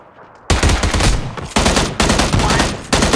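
Dense video game gunfire from a battle royale match, with loud sustained automatic bursts broken by brief gaps as the player takes hits, starting after a quiet half second and continuing close and heavy to the end.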